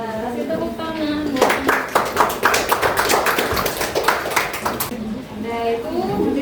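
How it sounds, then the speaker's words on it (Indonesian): Sixth-grade students at an Islamic primary school clap together in a classroom after a group presentation, a burst of sharp, uneven claps lasting a few seconds, with children's voices talking before and after. "Kasih tepuk tangan"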